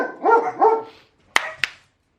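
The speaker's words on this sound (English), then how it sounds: "so the dogs are seeing him ride on the tractor, so they're barking" Dogs barking at a neighbor's tractor during haymaking, with two drawn-out bark-howls followed by two sharp, short barks, fairly close and loud, with no talking.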